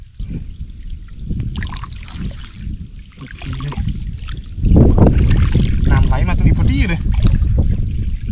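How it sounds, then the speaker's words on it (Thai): Water flows in a small stream where a fish trap is set, a steady rushing noise buffeted by wind on the microphone, growing louder about halfway through, with a faint voice now and then. "มีน้ำไหลแล้วครับ"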